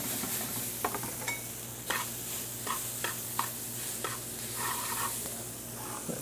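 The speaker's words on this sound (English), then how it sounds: "Another pan going there for the pork." Pork for chops sizzling in a hot pan at a barbecue while being stirred, a steady frying hiss punctuated by several clinks and scrapes of a utensil against the pan, close and without talk.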